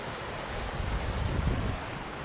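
Creek water spilling over a road after overflowing a small drainage tube, a steady rushing wash with rumbling low end and some wind buffeting, close and continuous.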